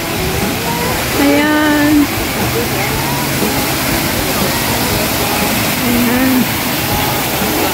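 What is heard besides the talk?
waterfall in Kowloon Park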